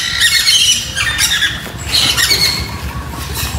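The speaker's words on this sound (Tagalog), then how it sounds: "Iba-ibang klase ng pato." Harsh, overlapping squawks from several ducks of different kinds, loud and close, repeating in bursts over a noisy outdoor garden background.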